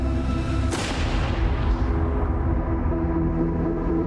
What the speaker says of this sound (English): was that a gunshot?